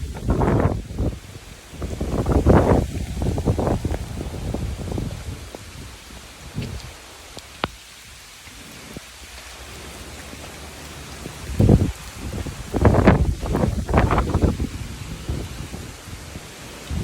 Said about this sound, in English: Lots of wind. And you can see that ocean side, it's blowing.